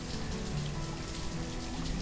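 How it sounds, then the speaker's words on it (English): Steady rain falls in the Banished village-building game, a dense even hiss of drops on surfaces throughout with no talk over it. "It rains a lot in this game."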